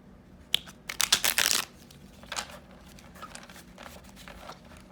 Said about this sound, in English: This deck's a bit tricky to shuffle, but we'll get it done.